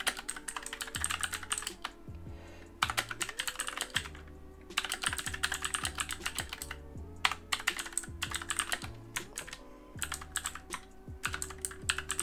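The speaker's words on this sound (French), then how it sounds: "vous y avez, je pense, entendu au son au niveau du clavier, c'est juste excellent en fait" Someone types steadily on a budget 25-euro Action gaming keyboard, with rapid clattering keystrokes in bursts separated by short pauses, close and fairly quiet over a faint low hum.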